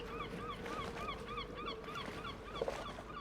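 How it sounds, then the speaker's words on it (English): Seagull cries from the ambience of the video game Foolish Mortals: a steady run of short, evenly spaced squawking calls repeating throughout, moderately loud over a low background hum, with no talking. "Classic seagull sounds in the background that remind me of Sid Meier's Pirates"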